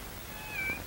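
A cat gives a single faint, short meow near the end of a quiet indoor moment, alone without talk over a low background hush.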